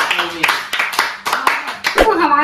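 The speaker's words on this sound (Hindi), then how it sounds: "ताली बजा दो" Family members clap hands during a samosa-eating competition at home, giving a string of uneven, close claps mixed with lively overlapping talk.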